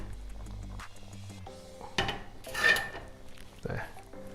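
A spoon gently stirs a sea bass curry simmering in a pot, making a few soft scrapes and clinks against the metal, close and quiet over a low background hum.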